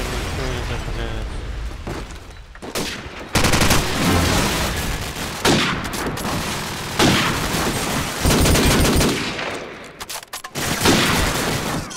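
Video game gunfire in an online match: rapid bursts of automatic weapon fire and single loud shots in irregular clusters, close and dense, with a player's voice talking over parts of the action.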